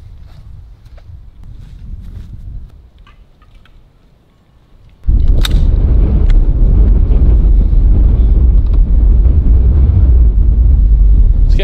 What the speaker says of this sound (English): It's getting really windy out.